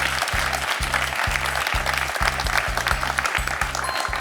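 A studio audience on a French television quiz show applauds a contestant's point, bright sustained clapping over a regular pulsing low beat of show music, with no speech.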